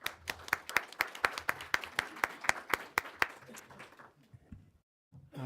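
A small audience at a supply-chain talk about timber and minerals claps in a sparse, fairly regular patter of individual hand claps that fades out after about four seconds, followed by a brief rustle.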